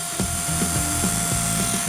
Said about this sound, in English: using a mortar bit to drill the holes and putting in hooks to hold the chicken wire away from the wall